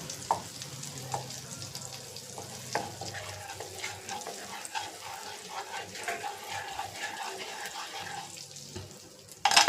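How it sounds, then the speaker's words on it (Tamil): Raisins fry in melted butter in a pan, a soft crackling sizzle with occasional stirring scrapes and taps, fairly quiet throughout before a brief louder clatter at the end. "பட்ரு மெல்ட் ஆகி வந்த உடனே இப்போ இதில் திராட்சையை போட்டு பொரிச்சு எடுத்து வச்சுக்கலாம்"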